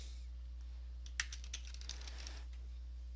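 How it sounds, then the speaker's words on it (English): A short burst of typing on a computer keyboard, a quick cluster of light key clicks near the mic over a faint steady hum, then a few scattered taps before it fades. "you type in Windows Explorer"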